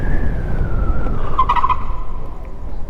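Tires on a three-wheel XOTO electric delivery scooter screech under hard braking without ABS, a steady high squeal over road rumble that bends lower and fades, loud and close.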